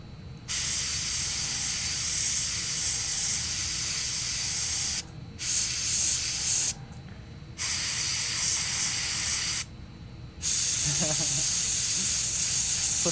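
An airbrush sprays paint onto a Warhammer miniature in loud, steady hissing bursts broken by short pauses, with faint handling noise after the last burst.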